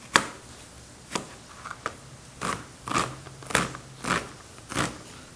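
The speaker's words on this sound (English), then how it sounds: "Just do a quick dice on this." An onion is diced with a knife on a board for a wild boar hash, producing about eight sharp chopping crunches at a steady, unhurried rhythm, close and clear with no voices.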